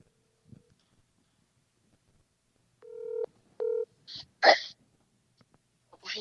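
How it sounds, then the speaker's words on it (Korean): Two short beeping telephone dial tones sound at the start of a phone call, followed by a couple of breathy bursts, with near silence around them. "전화 연결 한번 시작해 볼까요"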